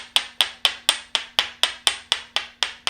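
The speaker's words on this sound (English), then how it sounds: "So they used a hammer and a mallet and they would do kind of this knocking." Steady hammer knocks from a Tok Sen Thai hammer massage, a wooden hammer and mallet tapping in an even rhythm, about four sharp, close, fairly loud strikes per second with no talking.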